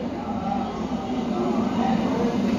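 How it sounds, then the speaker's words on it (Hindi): A red-orange metro train pulls in at Kalupur underground station in Ahmedabad with a steady low rumble and hum that builds slightly over a few seconds, with faint voices in the background. "हमारी मेट्रो भी आ चुकी है"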